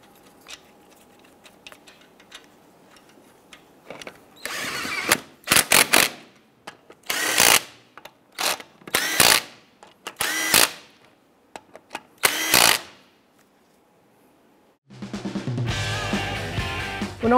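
A power tool snugs down lug nuts on a 1995–2001 Ford Explorer front wheel in several loud, separate whirring bursts with quiet gaps between them. A steady tonal sound comes in at the end.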